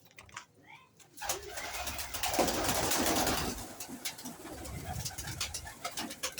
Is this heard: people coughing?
no